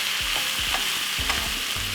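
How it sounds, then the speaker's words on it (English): Food with paprika sizzles steadily in a pan for a Jamaican bully beef and cabbage dish, while a utensil stirs and scrapes through it in quick repeated strokes, close and loud, with no voices. "Give it a stir."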